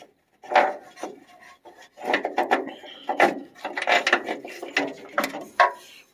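Hand ratchet loosening front body mount bolts on a vehicle during a body bushing and body lift job, a series of close, sharp clicking bursts in irregular rhythm with short pauses between strokes, no voices.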